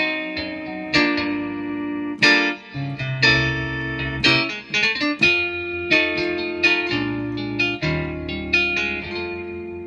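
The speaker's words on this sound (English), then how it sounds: "But it's a new clean guitar right over here." Clean electric guitar patch played on a Casio CGP-700 digital piano, a run of plucked single notes and chords with light reverb, played alone with no talking.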